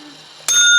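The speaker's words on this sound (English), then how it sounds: "we get to ring my bell" A small hand bell rung once to celebrate finishing a challenge, a bright sudden ring that hangs on with a sustained shimmering tone after a near-quiet start.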